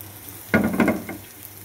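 Fish for chilli fish dry is stir-fried in a pan on the stove, giving a sudden burst of crackling sizzle that flares, pulses briefly and fades back to a low background hum.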